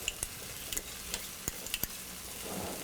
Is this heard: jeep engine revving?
no